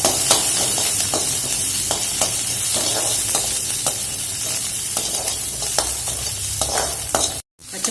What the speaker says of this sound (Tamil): இதே எண்ணெயில் கொஞ்சம் பச்சை மிளகா மட்டும் போட்டு வதக்கி எடுத்துக்கலாம்.